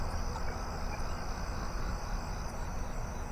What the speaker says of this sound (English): It's Japanese burrowing crickets.